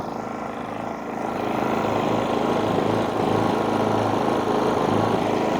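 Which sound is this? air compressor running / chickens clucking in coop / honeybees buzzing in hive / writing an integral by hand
air compressor running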